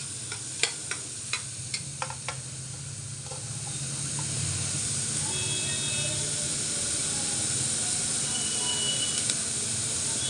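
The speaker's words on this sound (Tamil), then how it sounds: "இதே சும்மா அந்த கீயில் ஒரு வதக்கு" Tomatoes being sautéed in ghee for chicken soup, starting with a few sharp spoon taps against the pan, then settling into a steady soft sizzle and hiss.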